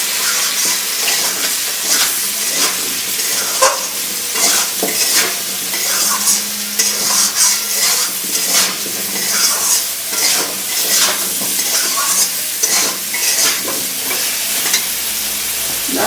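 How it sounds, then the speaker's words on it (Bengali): Ground ginger, cumin and green chili paste fries with salt and turmeric in a pan for khichuri, a dense continuous sizzle cut by rapid spatula scrapes and clinks, loud and close throughout. "মশলা বলতে আদা জিরে কাঁচা লঙ্কা বাটা নিমোড়া বেটে নেব দিয়ে দিলাম লবণ আর হলুদ তারপরে একটু ভেজে নেবো"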